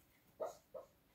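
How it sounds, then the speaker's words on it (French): A dog gives two short, separate barks at a distance, faint against a quiet indoor background. "Ah non, c'est le chien."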